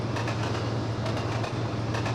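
An Intercity 125 train running on the East Coast Main Line in Trainz, a continuous rumbling drone with low engine hum and faint rhythmic wheel clatter, steady and close, no talking.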